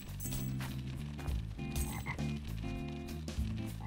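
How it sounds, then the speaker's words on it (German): In the swamp video game Charlie from the Swamp, a frog croaks repeatedly in deep, rhythmic, resonant calls, loud and close, with no talk. "ist ja ein Frosch unterwegs im Sumpf"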